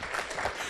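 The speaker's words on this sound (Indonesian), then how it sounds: "Boleh saya minta tepuk tangannya dulu?" Short burst of audience applause at a book discussion event, dense and moderately quiet clapping that lasts under a second.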